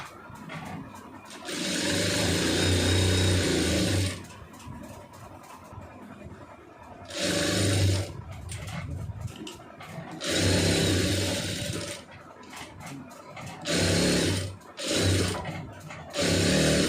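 A sewing machine stitches a cross-cut lined blouse in several loud runs of fast whirring, each broken by short quiet pauses.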